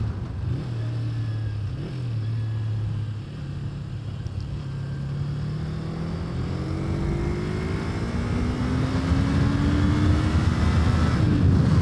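A 2006 Kawasaki Ninja 250 motorcycle ridden in winter with its engine not yet fully warm; the engine note rises steadily through the gears below redline under heavy wind rush, close and continuous, with no speech.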